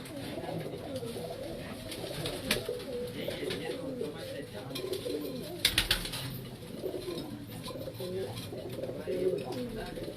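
Firozpuri and Motiyon wale pigeons on a rooftop in Paposh Nagar, Karachi, giving soft, low, repeated cooing amid light outdoor ambience, with someone talking over them.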